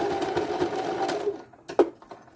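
A sewing machine runs steadily as a fabric strap is re-stitched, a fast close mechanical whir that stops partway, followed by a couple of short clicks and knocks.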